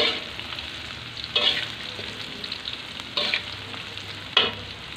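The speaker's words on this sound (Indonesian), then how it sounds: "Ini mama masukkan tempe sedikit ya teman-teman, goreng setengah matang ya." Tempeh pieces fry in a pan of hot oil with a steady crackling sizzle, broken by three louder stirring scrapes spaced a couple of seconds apart; no voices.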